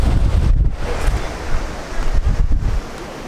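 Mediterranean Sea waves wash onto the shore in a steady, close roar, with heavy wind buffeting the microphone and no voices.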